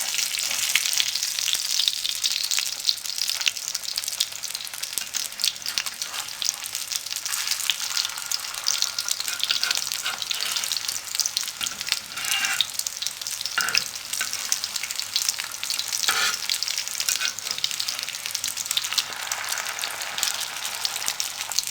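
Chicken shami kababs fry in a pan over a low flame, giving a steady, close sizzle with crackling spatter that runs unbroken throughout, plus occasional soft scrapes.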